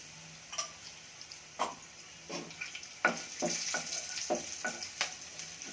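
Hot oil, asafoetida and a spoon of ghee crackle in a pan for a Kandi pappu rasam tempering, giving a steady close sizzle broken by sharp spattering pops and a few utensil stirring clicks.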